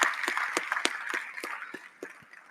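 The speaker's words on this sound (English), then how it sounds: "a big round of applause to these guys too" Audience applause at a service design awards ceremony, a modest, fairly sparse patter of claps from a smallish crowd that thins out over a couple of seconds.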